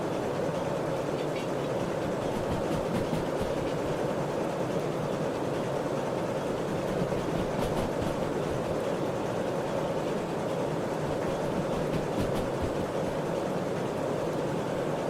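A steam locomotive in the Derail Valley train simulator runs along the rails on the way to a steel mill, a steady, continuous rumble and chuff of train noise that carries on evenly throughout with no talking.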